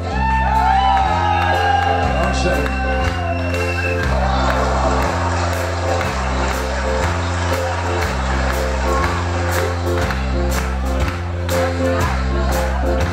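Audience at a live concert in Reinach, a 50th-anniversary celebration, cheers, whoops and shouts over steady, loud pulsing music that runs throughout; a voice briefly speaks near the start.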